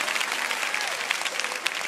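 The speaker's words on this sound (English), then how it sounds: "No, don't clap for that." Audience applause fills a sermon hall, dense and steady, with faint voices and cheers mixed into the clapping.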